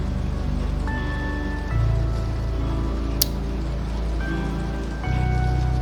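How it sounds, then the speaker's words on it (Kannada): Steady rain pours around a spooky hotel in the Roblox horror game Doors, a continuous hiss alone alongside faint droning game tones, with one sharp bright tick midway. "ಮಳೆ ಬರಕಿಂತ ಸ್ಥಳ ಒಂಥರ ಮಸ್ತ್ ಐತಿ"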